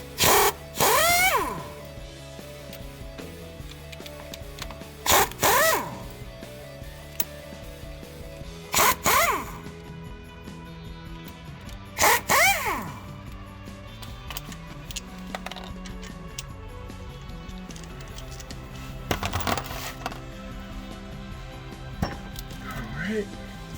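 An impact wrench removes the four 15 mm driveshaft bolts on a Jeep Wrangler JK, fired in several sharp, loud bursts with quiet gaps in between and faint clinking between bursts.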